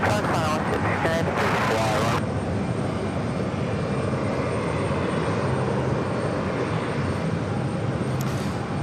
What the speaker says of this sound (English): Got that Neos Flight 782, 787-9 Dreamliner making its way down for a takeoff on the 4 left